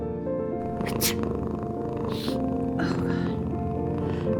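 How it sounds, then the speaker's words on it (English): A pet cat purrs in the game Before Your Eyes, a soft low rumble under a warm spoken voice and gentle background music. "I think someone likes his new cat."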